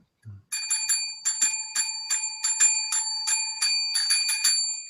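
Electronic bell effect played as a quick rhythmic series of bright, clear dings in a patterned melody, loud and close, after a brief low thump at the start.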